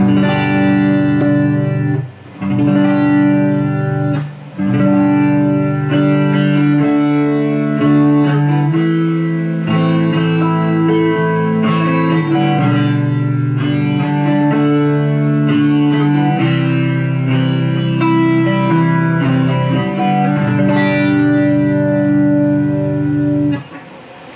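Electric guitar on the neck pickup of a Gibson Melody Maker, played through an Analog Man chorus pedal, shimmering and warbling with a wide, watery sweep across continuous strummed chords and single notes, loud and close.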